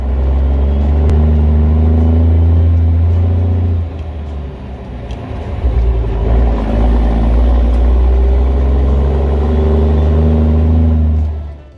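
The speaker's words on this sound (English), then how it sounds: "The Cummins KTA-600 was a monster by any standard." Cummins KTA-600 diesel engine running loud and close with a deep, rumbling low drone that dips briefly midway, then builds back to a sustained heavy roar.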